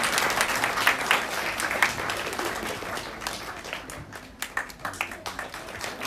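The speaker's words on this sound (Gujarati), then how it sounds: "જોરદાર તાળીઓથી એમના માટે" Applause at a primary school ceremony as teachers are honoured with shawls; a crowd claps steadily and densely, loudest in the first seconds, then thinning into scattered individual claps toward the end.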